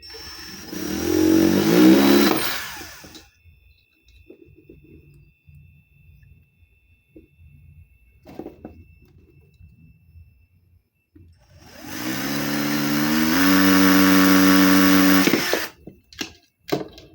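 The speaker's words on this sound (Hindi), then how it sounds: "क्योंकि मेरे पास ड्रिल मशीन है, इजी हो जाएगा, इसलिए मैं इसको ड्रिल से कर रहा हूँ।" An electric drill machine bores a hole in two loud, whining bursts with quieter handling noises and clicks in the pause between them, ending with a few sharp knocks.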